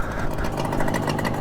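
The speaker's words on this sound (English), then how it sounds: "And that's her idling now as well." Vintage 1966 Suzuki 150 two-stroke motorcycle idling in neutral, a steady, fairly loud close putter with an even pulse throughout the short stretch.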